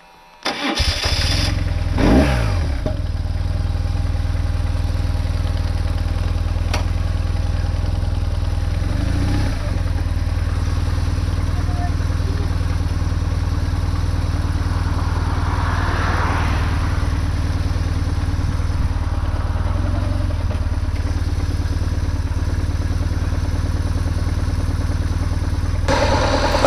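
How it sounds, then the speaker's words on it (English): A BMW motorcycle boxer engine starts up and settles into a steady, low idle that runs on for a long stretch, with a brief faint rise partway through. "I just love the sound of the boxer engine."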